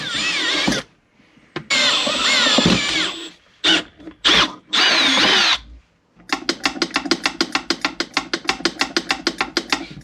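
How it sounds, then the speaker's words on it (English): A power drill bores into a pipe for a water/methanol nozzle, whining in several loud bursts with pauses, then switching to a rapid rhythmic ratcheting chatter. "We're going to go ahead and drill right here at our mark."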